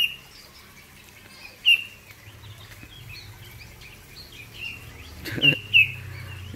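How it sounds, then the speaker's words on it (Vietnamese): Wild birds chirp near an outdoor pheasant cage. A few short, sharp calls come through, sparse and fairly close, over a low steady background rumble. "Kia đang có 3 con chim trời đấy các bác"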